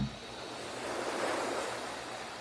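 Ocean surf rolls in a steady, continuous wash of breaking waves, moderately loud and even throughout, with a faint windy hiss and no voices.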